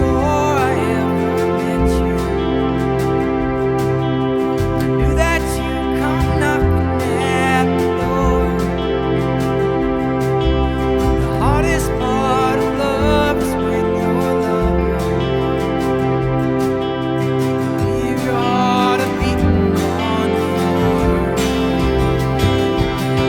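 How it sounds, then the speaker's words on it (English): Retro synth simple pad in Logic Pro sustaining held chords, a thick continuous atmospheric tone that shifts chord every few seconds with no pauses, loud and alone. "So now it's going to switch to the retro synth here."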